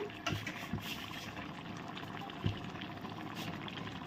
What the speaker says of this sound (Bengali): এখন ফুটছে